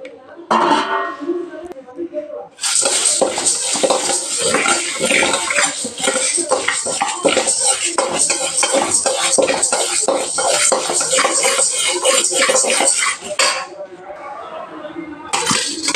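Washed wheat rava dry roasting in a pan on a stove, a continuous loud rattling, clinking scrape of stirring with a brief quieter pause, while someone talks over it.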